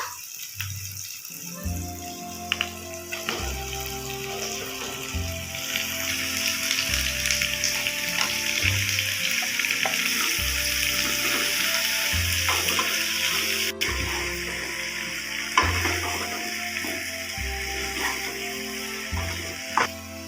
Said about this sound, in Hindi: एबे हम सेथिरे भाजी रखिथिबा आलू पणस को देई मिसाई नबा।